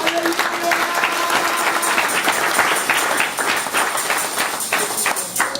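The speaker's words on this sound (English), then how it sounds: "Yes, go ahead and give God a big clap." A church congregation claps together, a dense steady wash of applause from many hands filling the room, sustained and loud throughout with faint voices mixed in.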